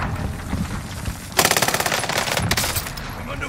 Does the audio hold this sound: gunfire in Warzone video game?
yes